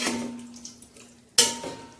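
A spoon stirs chicken biryani masala of onion, salt, turmeric and curry leaves in a cooking pot, giving a few scraping and clinking knocks, with a sharp metallic strike near the end. The stirring is fairly quiet and no one talks over it.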